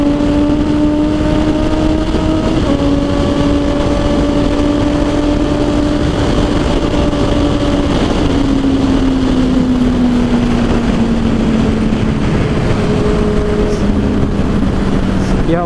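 Honda CB650R motorcycle engine running on the road, a steady loud drone whose pitch climbs and falls through the gears as the bike pulls, with constant wind rush underneath.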